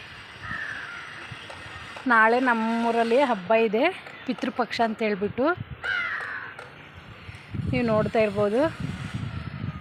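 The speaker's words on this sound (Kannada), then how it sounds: "ಎಷ್ಟೊಂದು ಕಾಗೆ ಬಂದಿದೆ ನೋಡಿ" A flock of crows gathers by a spot where laundry is being washed, cawing in repeated harsh bursts close by while someone talks over them.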